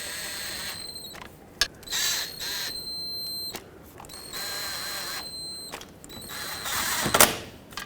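Ratchet driving in transmission oil pan bolts on a 2007-2010 Chrysler Sebring, bottoming them out: repeated bursts of close, loud clicking pawl action separated by brief pauses, with a sharper metallic clack near the end.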